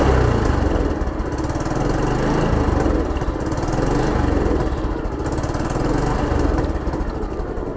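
Motorcycle engine running steadily under throttle, a continuous loud mid-pitched drone with slight pulsing and no clear revving peaks, close by and with no talk.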